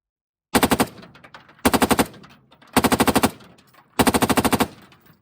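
Rifle fitted with a Red Right Hand RECCE IAR upper firing four rapid full-auto bursts of about six to eight shots each, loud and close with short echoing pauses between bursts.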